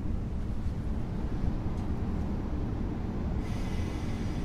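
A steady low rumble of a train to Kielce rolling out of a platform at Warszawa Zachodnia station, continuous and moderately distant, with a faint hiss rising near the end.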